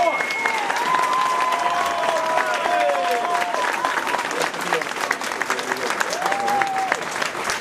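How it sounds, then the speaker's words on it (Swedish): A political rally audience in Växjö breaks into sustained, dense applause, loud and even throughout, with faint cheering voices rising above the clapping. "En applåd!"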